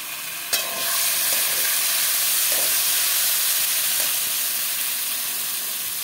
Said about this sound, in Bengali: দিয়ে দেবো আলু আর এই মাটনের কলজেটা দিয়ে ভালো করে কষাবো